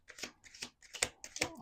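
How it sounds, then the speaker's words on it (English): A deck of playing cards being shuffled on a table, several quick riffling bursts close by and fairly quiet, each lasting a fraction of a second. "Let's do 2 more shuffles."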